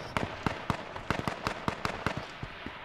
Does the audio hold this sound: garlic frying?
no